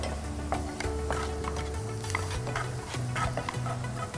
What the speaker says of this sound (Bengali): এটাও রসুনটা একটু ভাজা করে নেব।